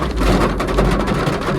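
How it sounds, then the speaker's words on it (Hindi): Heavy downpour drums on a parked car at a foggy hill viewpoint, a dense, continuous close hiss and patter with no speech. "बारिश हो रही है मूसलाधार"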